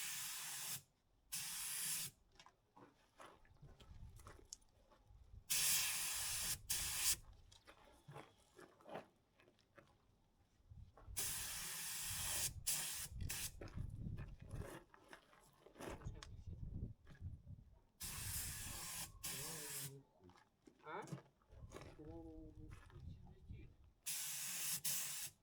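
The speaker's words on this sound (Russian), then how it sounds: "мы продолжаем заниматься погрузчиком, а именно начинаем с покраски дисков" Spray gun painting the wheel rims of a BME-1565 forklift, giving repeated bursts of loud hissing spray separated by short pauses, with people talking and some clatter in the gaps.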